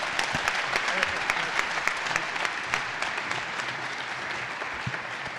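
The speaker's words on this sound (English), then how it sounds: "now a round of applause for Michigan State Athletics" A crowd at a Michigan State Athletics gathering gives sustained, fairly loud applause, a thick continuous patter of many hands with a few sharper claps standing out.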